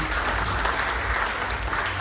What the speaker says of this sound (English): So give Mom Indy a big round of applause, please